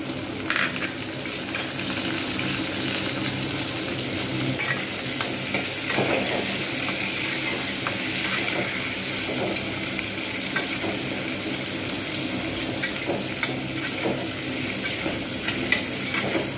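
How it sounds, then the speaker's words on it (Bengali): Onions and green chillies fry in a pan of Bengali katla fish curry with ridge gourd and potato, giving a loud, continuous sizzle with occasional stirring scrapes and no talking. "পেঁয়াজ কিন্তু পুড়বে না কখনোই, জাস্ট হালকা করে এর সঙ্গেই ভাজা হবে।"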